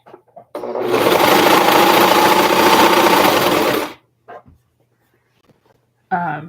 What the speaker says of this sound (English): And then I'm just stitching it down.